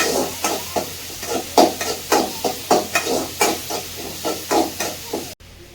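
Onions and tomatoes being sautéed in a pan, with a regular series of about a dozen short scraping stirs over a soft sizzle, close and fairly quiet, ending abruptly.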